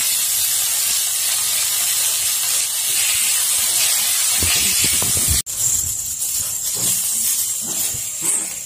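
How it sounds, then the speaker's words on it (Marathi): Moist curry leaves and coriander fry in hot oil for corn chivda, giving a loud, steady hiss that swells into crackling bursts midway and then eases, with no talking. "कढीपत्ता ओलसर असतो, तो आपल्याला कडक होईपर्यंत ह्या तेलामध्ये परतून घ्यायचा आहे."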